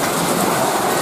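Heavy rain pours down outdoors during a flood-season rain, a dense, loud, continuous hiss of drops with no pauses or voices.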